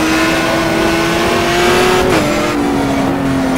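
A race car in the GTR2 FIA GT racing game roars loudly and steadily at high revs, with a brief dip and jump in pitch as it shifts gears, with no voices.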